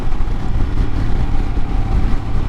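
A 2022 Royal Enfield Himalayan motorcycle with a Hitchcocks carburetor conversion revs up under throttle in fifth gear, its engine drone steady and loud with wind rush throughout, no voices.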